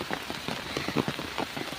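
Rain falls steadily on surfaces outdoors during the rainy season in Bangladesh, a faint, even patter of close drops.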